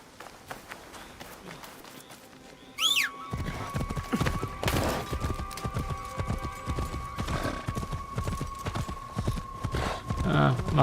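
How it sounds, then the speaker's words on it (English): In a video game set in Japan, a horse's hooves clip-clop in a quick, steady rhythm. After a quiet opening they come in loud and close, with game sounds and a sustained tone layered over them. "My horse is just super clumsy and just bumping into everyone and everything all the time."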